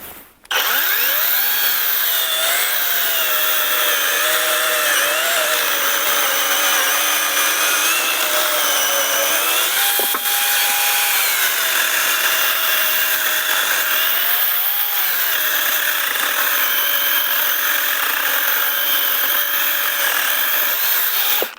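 A ProCraft PKA 33 cordless saw cuts through wood with a steady, loud, high-pitched whine that holds for about twenty seconds, its pitch sagging briefly midway as the blade loads up, then running on until the cut ends.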